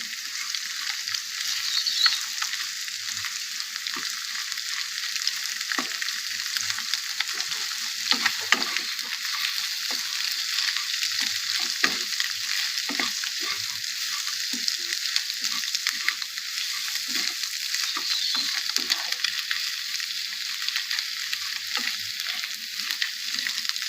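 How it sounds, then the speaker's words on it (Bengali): Potato, onion and egg frying together in a pan, a steady close hiss of sizzling oil running throughout, with occasional faint scrapes and stirring knocks. "হয়ে গেছে আমার আলু পেঁয়াজ ডিমটা ভাজা"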